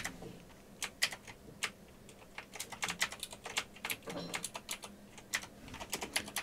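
Quick, uneven bursts of clicking on a computer keyboard while someone writes programming code for quaternion functions, close and crisp, with keystrokes clustering into fast runs and short pauses.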